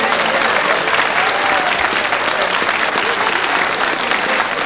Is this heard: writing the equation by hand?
no